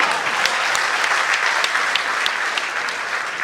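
Audience applause at a Bharat Vikas Parishad address by Dr. Mohan Bhagwat: steady, dense clapping from a large crowd, loud and sustained throughout with no talk over it.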